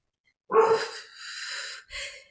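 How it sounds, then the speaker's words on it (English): A pet dog barks close by in a home during a podcast, one long rough bark followed by a second shorter one, loud and alone. "Now my dog is barking, is making me all anxious."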